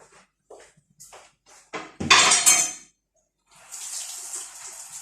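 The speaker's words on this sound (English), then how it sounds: "Give my hands a good wash" Hands being washed under a running kitchen tap while making pork pie, with a brief clatter and splash before a steady, moderately loud stream of water runs to the end.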